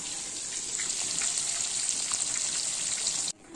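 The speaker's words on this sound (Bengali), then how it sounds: "দেখো মাছ কিন্তু এখানে আরও আছে, এগুলো আরও ভাজবো" Pieces of katla fish frying in hot oil give a steady, dense sizzle with small pops and crackles, close and even, cutting off abruptly near the end.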